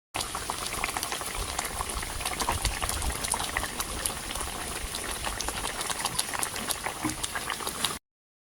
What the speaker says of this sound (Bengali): মাছগুলো দেওয়ার পরে আমি 10 থেকে 15 মিনিট তরকারিটাকে আবারও একটু ফুটিয়ে নেব।